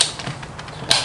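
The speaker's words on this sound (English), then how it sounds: "19 mil socket on there. Just loosen them off." A 19 mm socket loosening wheel nuts on a Mazda BT50 pickup, heard close up as a brief sequence of creaking, ratcheting metal clicks.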